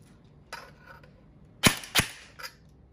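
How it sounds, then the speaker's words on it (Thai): An E&C 603 S4 airsoft rifle fires through a velocity chronograph, giving two sharp, loud snapping shots about a third of a second apart, with fainter clicks before and after. "ทดสอบความเร็วกระสุนกันครับ"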